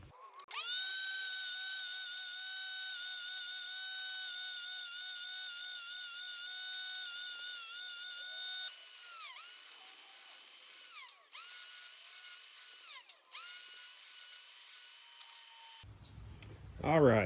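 A power tool deburrs metal bars for a chair, a loud high-pitched spinning whine held steady for several seconds, then cut by short dips and restarts as the tool bites in, ending with a clunk of handling.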